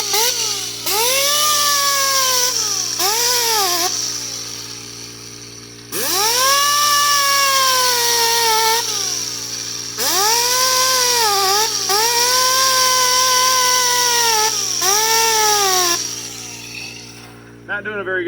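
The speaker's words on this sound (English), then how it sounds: "I think we'd be better off with a drill" A power drill works rust off a hatchet in repeated bursts, each rising to a whining, grinding pitch that wavers under load, then stopping between runs.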